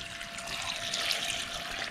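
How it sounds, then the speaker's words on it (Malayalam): Water is poured steadily into a pot of jackfruit and beef, making a continuous rushing, splashing stream at moderate volume with no talking. "അപ്പോൾ നമുക്ക് ഇനി ഇതിലേക്ക് വാട്ടർ ചേർക്കട്ടോ,"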